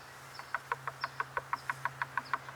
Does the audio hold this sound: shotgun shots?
no